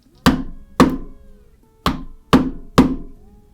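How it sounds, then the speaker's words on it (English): Maul or mallet tapping a leather rivet to set it: five sharp, loud knocks in an uneven rhythm, each with a short ringing decay, close by and with no talk. "We're basically just going to tap it and set our rivet."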